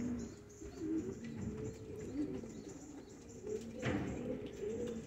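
Soft, low coos from Spanish Pouter pigeons at a pigeon show repeat steadily in the foreground, with faint chirps and a brief flutter of wings partway through.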